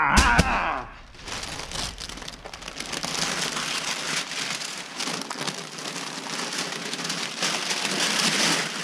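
Rain patters steadily and densely on a hard surface nearby, a continuous close hiss of drops that swells slightly, starting after a brief louder noise.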